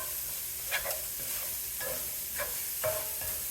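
A spatula scrapes and stirs cheese dip in a pan with a steady sizzle underneath, giving several distinct scraping strokes close up and no talking.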